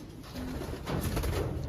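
Pet pigeons coo softly nearby, a short series of low, throaty murmuring calls with no one speaking.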